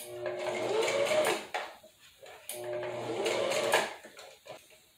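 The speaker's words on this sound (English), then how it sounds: "by just sewing very close to the edge all the way around, making sure there are no puckers on the inside" A sewing machine stitching close to the edge of an afro curly hair topper, running in two steady whirring bursts separated by a short pause, fairly quiet and close with no voices.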